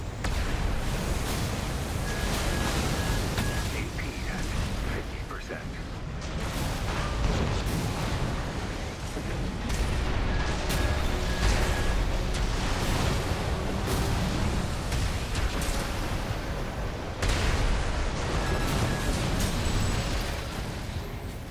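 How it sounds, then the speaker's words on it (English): Spread bazooka blasts in the Armored Core 6 video game: dense, heavy booming explosions fire in rapid succession, layered and continuous at loud volume, with no voices. "I can't believe how well these spread bazookas are performing"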